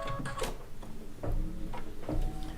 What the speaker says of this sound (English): And it's going to stitch out a placement stitch.